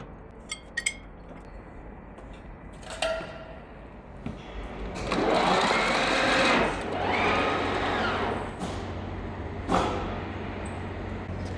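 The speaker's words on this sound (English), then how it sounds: "we're going to refit the boring head and start machining the bores" Boring head cutting the worn bores of a D11 dozer equalizer bar in a machine shop, a steady metallic whirring cut that builds midway and holds for several seconds amid scattered clinks and taps.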